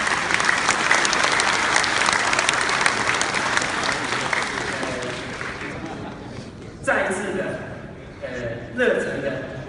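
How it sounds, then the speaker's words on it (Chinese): A banquet audience at an overseas Chinese community farewell dinner in Matsu breaks into loud, sustained clapping that fades over several seconds, followed by a voice talking over the hall with chuckles and a few scattered claps. "各位是不是给我们委员长热烈的掌声？"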